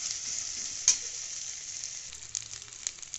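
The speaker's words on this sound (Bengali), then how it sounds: "আদা রসুনের কাঁচা গন্ধটা চলে যাওয়ার পরে আমি এবারে ওখানে দিয়ে দেবো টমেটো কুচি" Chopped tomato going into a ginger-garlic paste masala frying in a pan, heard as a soft, steady hiss with a brief sharp crackle and a few faint stirring taps, no talking.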